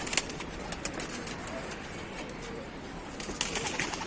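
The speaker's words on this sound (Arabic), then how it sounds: "الحمام طاير يا رجاله" Pigeons kept for sale take flight, with soft bursts of flapping wings against a faint background.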